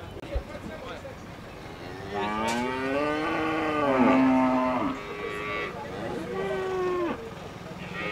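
Cattle and calves in a pen at the Belo Jardim livestock fair low repeatedly with several drawn-out moos, close and loud, while people talk nearby.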